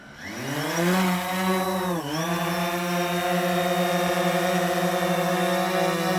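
DJI Phantom 4 Pro drone motors spool up from idle into takeoff, a loud, steady multi-toned buzzing whine that dips briefly in pitch then holds strong and close with no talking.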